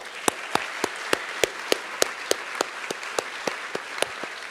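Audience applause for trustees at a chancellor's opening session, a bed of crowd clapping marked by a series of loud, evenly spaced sharp claps, probably from someone near the microphone.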